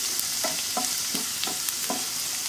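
Garlic and carom seeds fry in a pan over a low flame with a constant hiss. About five evenly spaced stirring scrapes sound over the sizzle, and no voices are heard.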